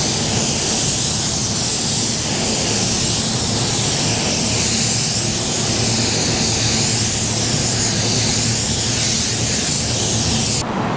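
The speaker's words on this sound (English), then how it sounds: "all I'm gonna do is put a light medium wet coat on" A spray gun lays a light, medium-wet coat of white pearl paint on a car panel, giving a loud, steady, continuous hiss that cuts off right at the end.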